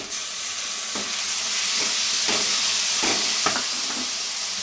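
Two tomatoes and three to four green chillies fry in a pan over a garlic paste base, giving a loud, continuous close sizzle with occasional stirring scrapes and no talk.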